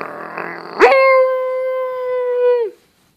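A dog lets out a single sustained howl lasting about two seconds, loud and close, rising sharply at the start and falling off at the end, preceded by a brief burst of rough noise.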